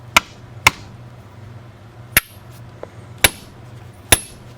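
An Icon ball peen dead blow hammer strikes five times, sharp, loud, ringing impacts spaced irregularly about a second apart, with a faint lighter tap between strikes and a low hum underneath.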